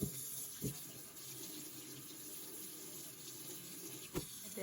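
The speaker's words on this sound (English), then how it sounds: "we are gonna run it under cool water until the water runs clear" Cool tap water runs steadily over tie-dyed shirts being rinsed in a sink, a continuous splashing rush with a couple of brief louder splashes, close by and with no talk.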